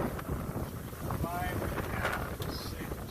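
A sailboat making way under sail at sunset, with steady wind rushing across the microphone and water noise throughout, while a voice talks briefly over it.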